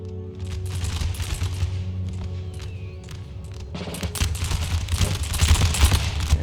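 Musket volleys fired at cavalry during the Battle of Hannover in Empire: Total War, crackling ragged gunfire building in waves over a steady battlefield rumble, with a denser, louder volley toward the end.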